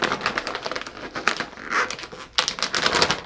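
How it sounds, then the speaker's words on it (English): A plastic bag of Sweetwell keto coconut cookies is ripped open close by. It makes loud, crinkly rustling and tearing bursts with a short pause midway, and no one speaks. "let's break into this bag"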